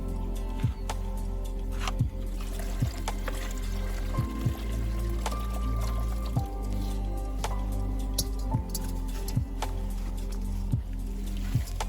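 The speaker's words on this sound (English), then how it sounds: "So now we pour the mercury gold mixture into a smaller bowl to clean it" A mercury and gold mixture is poured into a smaller bowl, giving soft wet squishing and dripping sounds that repeat at a slow, irregular pace, close and fairly quiet.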